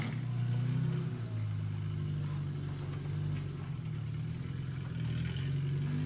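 A truck engine motoring steadily along the rocky Rubicon Trail at sundown, a low constant hum with faint clatter and small surges in revs, fairly quiet and unbroken.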